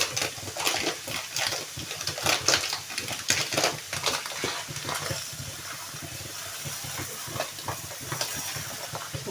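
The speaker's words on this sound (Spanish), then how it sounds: "Vamos a sofreír un poco el arroz" Rice sizzling and sautéing in a hot pan for asparagus risotto, a steady hiss with scattered crackles and stirring scrapes, continuous and close throughout.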